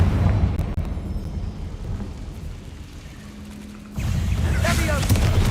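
A Confringo fire spell fired in the Hogwarts Legacy video game lands as a sudden rumbling blast about four seconds in, swelling into a loud crackling burst over a low steady game rumble.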